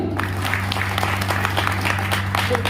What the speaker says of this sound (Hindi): अब तक की एक शानदार और शानदार ताली।